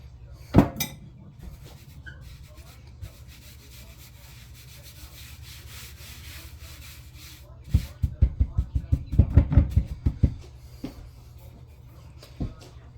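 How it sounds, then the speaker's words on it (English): Dough being kneaded with flour on a cutting board, soft rubbing and a rapid series of thumping pushes and presses, close and intermittent with quieter stretches between. "I'm gonna get some flour on this cutting board and knead this flour a little bit"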